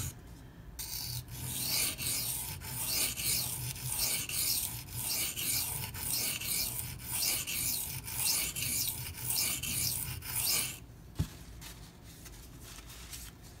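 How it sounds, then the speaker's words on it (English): Benchmade Mini Freek knife with S90V steel sharpened on a stone at a steady angle, a rhythmic rasping rub of repeated strokes back and forth, close and fairly loud, ending with a brief pause and a small tap. "sharpen like I normally do, just keep the same angle until all that damage is taken out"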